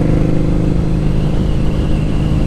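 A 2003 Harley-Davidson V-Rod's engine runs steadily up close, a loud, even low-pitched rumble with a slight rev character holding throughout with no talk.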